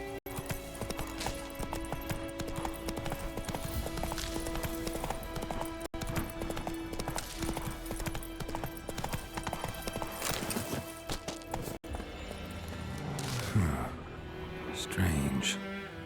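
Hooves of Geralt's horse Roach gallop in The Witcher 3, a quick steady clip-clop running without a break, with game music and ambience behind it and a short neigh near the end.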